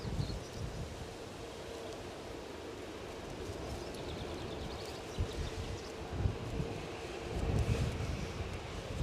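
Wind buffets a camera outdoors at Edinburgh Airport, producing a steady low rumbling roar with gusty surges near the end, close and continuous with no talk.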